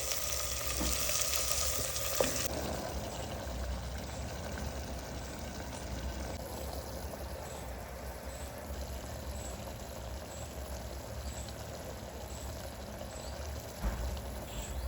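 Crushed garlic fried golden brown, with onion and tomato added, sizzles steadily in a pan, a soft continuous hiss after a brief clatter near the start.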